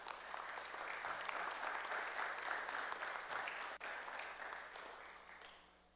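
Audience applause at a senate certificate presentation honoring Payaluk Seafaring Academy, a steady spread of many hands clapping at moderate distance, sustained for several seconds with a low hum beneath and a brief dip near the end.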